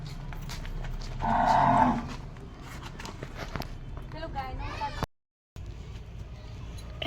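A cow moos loudly once in a rural setting while it is being milked, a single drawn-out call set among footsteps and nearby voices, followed by brief rustling.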